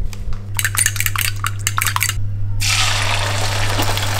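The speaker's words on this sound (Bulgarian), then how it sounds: "Разпърквам и слагам на тигана." Beaten eggs mixed with mozzarella and salt being whisked in a bowl, a run of quick metallic clinks, then poured into a frying pan with a steady hissing sizzle, close up over a constant low hum.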